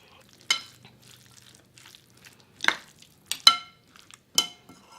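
Zoodles tossed with a vegan chickpea miso dressing in a bowl: a few separate wet squelches and light clinks, spaced apart, against near silence, with no voices.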